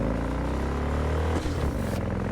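Motorcycle ride in the video game Cyberpunk 2077: a steady, loud engine drone with low humming tones, briefly dipping and shifting pitch partway through, with no talk over it.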